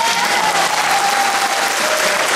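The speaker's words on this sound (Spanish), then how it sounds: "Fuertes aplausos para todos." At a tango competition's final results in Córdoba, the audience bursts into loud, dense applause, a steady roar of many hands clapping throughout with a faint tone sustained beneath it.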